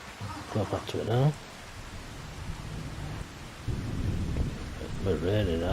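Steady rain hisses with low rumbles of thunder underneath in the video game Farming Simulator 25, while a voice speaks briefly at the start and again near the end.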